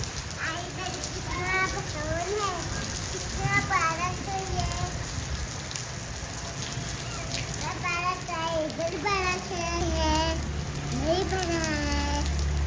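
Steady heavy rain hisses throughout in a stormy village downpour with hail falling, while several voices, including children's, talk and call out over it.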